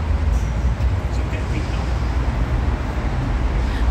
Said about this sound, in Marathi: UKची ट्रॅफिक बघा